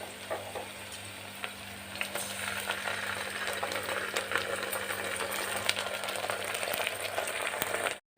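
Ginger garlic paste sizzling in a hot pan for vegetable pulao, a steady bright crackle with scattered pops and small clinks, close and continuous without speech.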